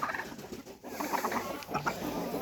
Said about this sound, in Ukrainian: Щось качки вон сваряться